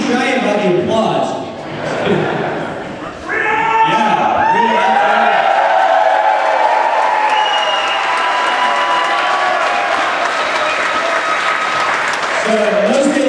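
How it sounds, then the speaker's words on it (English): Rally crowd at a Ron Paul Boston Tea Party fundraiser breaking into loud sustained applause with cheering and whoops, swelling after a brief dip and carrying on strongly to the end. "Guys, don't be shy about the applause."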